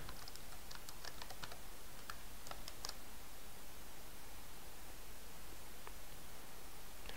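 A computer keyboard tapped in a short flurry of light key clicks, a username and password being entered, then only sparse clicks, all partly buried under a steady loud hiss.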